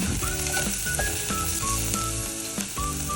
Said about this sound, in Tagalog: Maggisa po tayo ng bawang.